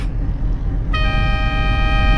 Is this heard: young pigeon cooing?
no